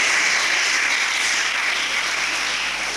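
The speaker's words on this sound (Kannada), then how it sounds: "ನೀವೆಲ್ಲ ಒಂದು ಚಪ್ಪಾಳೆ ಹಾಕಬೇಕು ಅಂತ ಹೇಳ್ತೇನೆ" An audience applauds students at a school event at Odiyuru Sri Gurudeva Vidyapeetha. The clapping is loud, dense and steady throughout.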